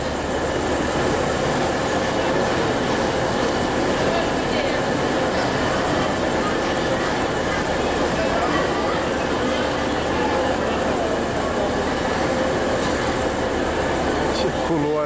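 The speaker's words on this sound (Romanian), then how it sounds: "Și ăsta e trenul de la Dunăre." A train passes near the Danube, a loud continuous rumble of wheels and rolling carriages with rhythmic rail clatter that holds steady for the whole fifteen seconds.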